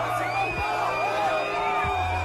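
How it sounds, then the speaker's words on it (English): A public crowd jeers and boos French president Macron, a continuous mass of loud voices with whoops and yells rising above a sustained roar. "politicians like France's Macron gets booed in public"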